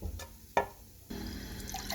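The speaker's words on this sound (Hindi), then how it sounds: "साथ ही मैं 3 अदद पानी के गिलास ऐड कर दूंगी। पानी मैंने ऐड कर दिया।" Water from drinking glasses is poured into a cooking pot of potato and meat curry with onion, tomato and garlic-ginger paste, heard as a short splash and then a steady trickling pour.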